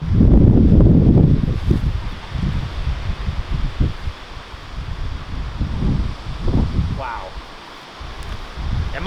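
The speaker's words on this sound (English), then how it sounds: "This might be too much wind for this disc." Strong wind gusting across an outdoor disc golf course, roaring and buffeting the microphone in loud surges that ease and return.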